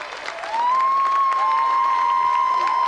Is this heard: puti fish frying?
no